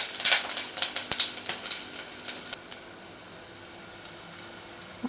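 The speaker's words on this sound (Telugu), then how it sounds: "ఆనియన్స్ వేసాక వెల్లుల్లి రెబ్బలు వేయాలండి." Sliced onions and garlic cloves fry in hot oil for tomato rasam, giving a faint, steady sizzle with scattered ticks and spoon taps that thin out toward the end.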